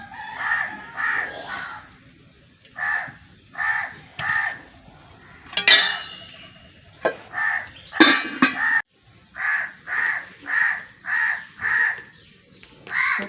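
A crow caws repeatedly in short bursts of three or four harsh calls, fairly close, with a few sharp clatters in between.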